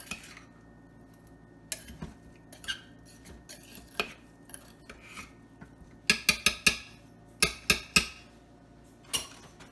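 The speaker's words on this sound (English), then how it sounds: "I'm going to give this a big stir to get all that seasoning incorporated in all 4 of the bags of cauliflower" A spoon stirring seasoning through bags of cauliflower for a keto Mexican street cauliflower side dish: scattered clinks and scrapes at first, then a dense cluster of sharp knocks near the end, close and fairly quiet, with no voices.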